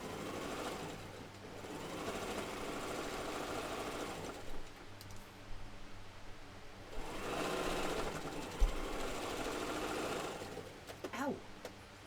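A sewing machine stitches around the edge of a quilt block in two long, steady runs of rapid mechanical whirring, pausing briefly between them, close and fairly loud.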